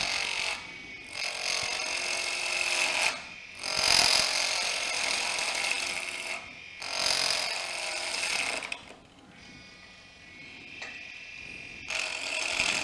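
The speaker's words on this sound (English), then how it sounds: "I drilled an 1/8-inch hole on it" A power drill boring a 1/8-inch hole with a bit held in its chuck while making homemade pen assembly tools, heard as loud whining bursts of a few seconds each, separated by short pauses, up close and with no talking.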